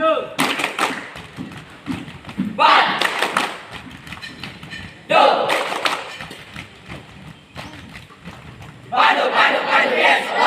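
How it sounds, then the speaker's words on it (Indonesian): An Indonesian scout troop from Al Bayan Hidayatullah Makassar performs a tepuk pandu clapping chant, with loud bursts of group shouting and sharp rhythmic claps in three surges separated by quieter voices. "Tepuk pandu."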